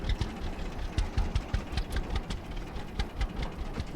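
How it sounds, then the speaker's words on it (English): A painted road tractor engine in the farming game Farmer's Dynasty runs with a steady, rhythmic chugging, moderately loud and heard alone. "The Jack Bear is our road tractor, as it's lovely and painted."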